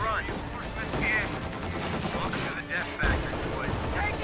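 A Puma armored car fires its gun in a real-time strategy battle, with several sharp gunshots and battle noise overlapping a commentator talking throughout.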